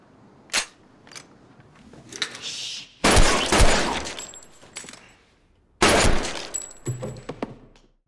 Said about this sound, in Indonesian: pembunuh ini pun mengambil senjata dan langsung menembak semua orang yang ada di sana.